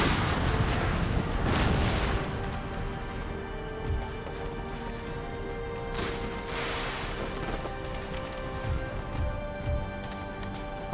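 Cannon artillery fire in Empire: Total War with the Brothers vs. Brothers mod, heavy booms rolling out several times over a continuous dense battle din.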